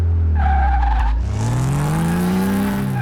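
In Car Mechanic Simulator 2018, a Porsche 911 S Turbo 964 skids with a loud tire squeal over its engine, which drops and then climbs again in a rising whine over about three seconds.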